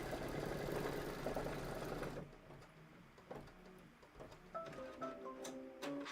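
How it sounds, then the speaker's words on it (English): Embroidery sewing machine stitching a bow base placement line for a Kimberbell project, a steady mechanical whir that drops to a softer rhythmic ticking and light tapping. "that was stitching of the bow base placement line"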